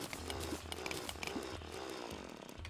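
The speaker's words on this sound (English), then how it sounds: "I killed it with my drill." A mithril drill in Terraria grinds through blocks in a harsh, buzzing whir with choppy bursts, steady and fairly loud for a few seconds.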